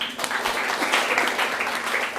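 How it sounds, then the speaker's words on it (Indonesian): Students in a classroom break into brief, steady applause, a busy wash of clapping with a faint murmur of voices underneath. "Tepuk tangan dulu."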